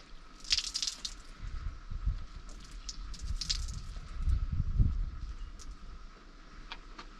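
A wet foam dirt bike air filter is squeezed and wrung out after rinsing, giving close, soft squelches and drips in irregular bursts, fairly quiet, with a few light ticks and no talking.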